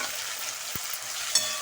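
Tomatoes and onions sauté in a pan for sev tomato sabzi, producing a brief, close, continuous hissing sizzle marked by a soft knock and a small clink of a utensil.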